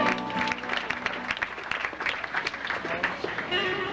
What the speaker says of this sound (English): A special round of applause for our best man and maid of honor, Ms. Mary Lynn Duquesne and Guillermo Cortez